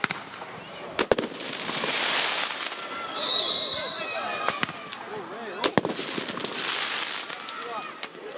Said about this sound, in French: c'est des pétards, feux d'artifice qui sont en train d'être lancés